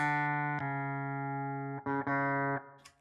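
An electric guitar chord run through a Digitech Drop pitch shifter set one semitone down, with the unamplified acoustic strings faintly audible too, rings out steadily, then is restruck twice in quick succession before fading.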